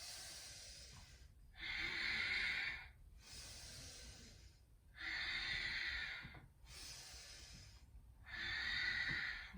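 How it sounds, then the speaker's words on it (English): Slow yoga breathing from a morning session, with long steady inhales and exhales alternating in an even rhythm, close and soft, three full breath cycles with no talk. "Inhale. Exhale. Inhale. Exhale."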